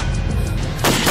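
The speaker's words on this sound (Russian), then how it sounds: "Ты что за стрельбу здесь устроил?" Gunfire in a tense police chase, a sharp loud blast near the end following continuous rumbling commotion.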